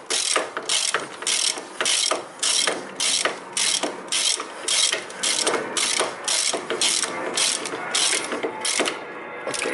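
A ratchet clicks in a steady series of quick strokes while fastening a brake part on a car, each burst of pawl clicks close and distinct with short gaps between pulls.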